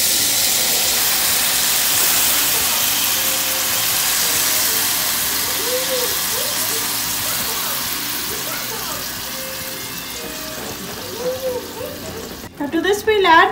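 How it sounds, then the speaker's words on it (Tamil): Tamarind water poured into bitter gourd frying in a pan for Kerala-style theeyal hisses and sizzles steadily at close range, easing slightly before a burst of clattering stirring at the end. "Now to this we'll add the tamarind water that we had soaked earlier."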